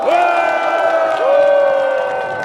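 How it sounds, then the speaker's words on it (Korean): A crowd at a presidential election campaign kickoff rally in Sejong, South Korea, cheers and shouts loudly, with rising whoops and sustained voices ringing over scattered applause. "여러분의 뜨거운 함성과 힘찬 박수로 시작하겠습니다"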